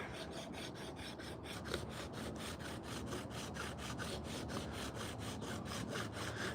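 A piece of old belt sander belt worked by hand over a carved wooden spoon, giving rapid, regular back-and-forth scraping strokes, close and loud, continuing evenly throughout with no talking.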